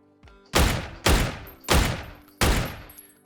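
Four heavy gunshots in the video game PUBG, fired from the hip, ring out one after another at a steady, slightly uneven pace, each loud and booming with a short decaying tail.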